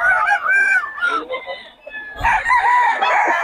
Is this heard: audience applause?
no